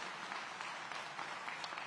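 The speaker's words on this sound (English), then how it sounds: "That deserves another round of applause" Audience applause at a city public safety and public engagement event in Aurora, a steady wash of many hands clapping, moderately distant and consistent throughout.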